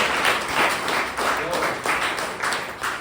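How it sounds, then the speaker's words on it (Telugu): An audience breaks into applause at a motivational talk, a steady wash of many hands clapping at once that holds for about three seconds without a break. "మీకోసం మీరు ఒక్కసారి క్లాప్ చేసుకోవాలి"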